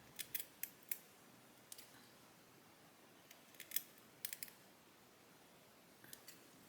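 Freshly sharpened shears snip hair in a quiet room, giving scattered crisp metallic cuts, some single and some in quick clusters of two or three.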